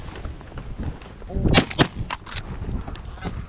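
Shotgun fire during a duck and goose hunt, muffled blasts mixed into excited outdoor voices and shouting, fairly close but partly buried under the talk.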